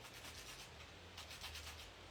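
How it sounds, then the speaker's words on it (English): Coloured pencil tip rubbed on a coarse sandpaper block, giving faint, steady scratchy rasping strokes over a low background hum, with a slightly stronger burst of strokes midway. "you need to get a piece of sanding, a sandpaper, quite coarse"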